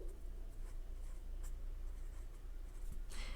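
A pen writes a name beneath a simple drawing on paper, with soft, close scratching strokes in short bursts against a quiet room.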